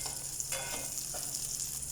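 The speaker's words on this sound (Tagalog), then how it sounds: "Gigisahin na natin." Eggplant mixed with egg sizzles in a hot pan, a steady frying hiss with a few short stirring scrapes. Nobody speaks.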